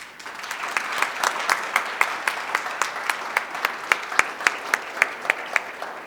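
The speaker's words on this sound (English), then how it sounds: "it feels welcoming to hear all you guys clapping and supporting everybody here." Audience clapping at an award ceremony, steady moderate applause from a mid-sized crowd with a few individual claps standing out in rhythm.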